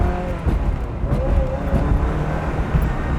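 A 1995 Ferrari F355 Spider engine runs steadily nearby, a dense, even mechanical drone with a faint tonal hum and no clear revving, heard alone without talk.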